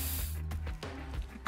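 An aerosol spray paint can in the video game inFAMOUS Second Son hisses in a few short, soft bursts at low volume, with no one speaking.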